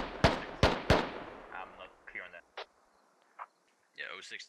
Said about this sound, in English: making some shots here at enemies